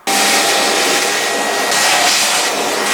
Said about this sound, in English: I'm going to get the hoover out, tidy everything up